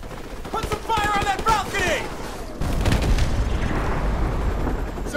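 Heavy gunfire and explosions from Call of Duty Modern Warfare Remastered during a USMC assault, with bursts and booms throughout and shouted voices mixed in over the battle.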